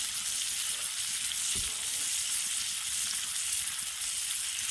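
Steady, crackling sizzle of food frying golden in a hot pan over a fire inside a winter tent on a snowy beach, continuous and close, with one brief low thump partway through and no voices.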